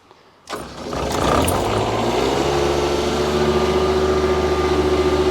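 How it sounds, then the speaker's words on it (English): A Shindaiwa welder generator engine starting: a sharp cranking catch, then the motor quickly revs up and settles into a steady, loud, even hum at close range, with no talking. "this is our second Shindaiwa. Very low noise. I'll fire it up for you now."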